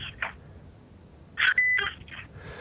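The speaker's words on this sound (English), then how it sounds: "this phone beeps once a minute to let you know how many minutes you're using" A phone gives a short electronic beep, its minute-interval signal, standing out clearly among brief scattered noises in an otherwise quiet stretch.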